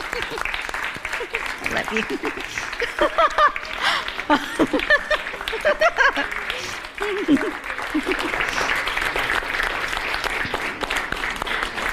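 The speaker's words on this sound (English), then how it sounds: "Can we give my grandma" A crowd gives sustained applause for a grandmother, steady clapping from start to finish, with a voice speaking over it partway through.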